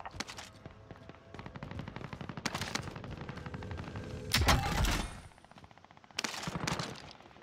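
Bursts of automatic gunfire and sharp single shots crackle in Call of Duty: Warzone, coming in several loud clusters separated by brief lulls, with no talking.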